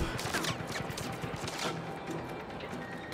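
Gunfire aimed at a satellite in Just Cause 3: a dense, continuous rattle of shots and blasts at moderate loudness, with no voices.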